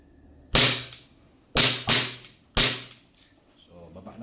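Airsoft Glock 18c with a long magazine firing on semi auto: four sharp, close cracks, two of them in quick succession, each with a short echoing tail.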